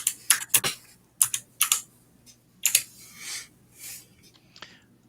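Clattering keystrokes on a computer keyboard come in quick bursts with short pauses between them, close and fairly crisp, with no talking over them.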